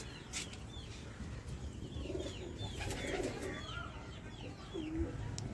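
Andhra Madrasi pigeons cooing in a loft, several soft low coos scattered over a constant background, with faint chirps and brief rustles, and no voices.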